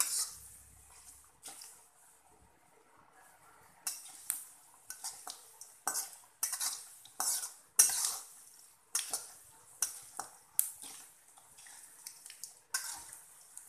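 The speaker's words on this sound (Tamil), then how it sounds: "உளுந்து செவக்க ஆரம்பிச்சிச்சு, தீஞ்சிடக்கூடாது" Urad dal frying in a pan for brinjal chutney while a utensil stirs it, giving a string of sharp scraping, clinking strokes over a soft background hiss, close up with no voices.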